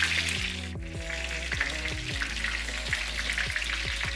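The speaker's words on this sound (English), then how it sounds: "Then we start cooking the onions, tomatoes, and all that." Onions and tomatoes sizzle steadily in a pan that has already cooked sausage, with a bright continuous fry and a few scraping stirs of a utensil, loud and close with no talking.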